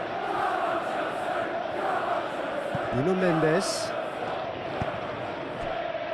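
Football stadium crowd chanting and calling out during a Chelsea versus PSG Champions League match, a dense constant roar with a rising chant in the middle and a commentator speaking over it.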